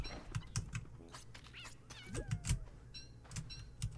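Shark kitten creature in the Don't Starve video game meowing, several short high cries and chirps spread over a few seconds against game background sounds, with no talk.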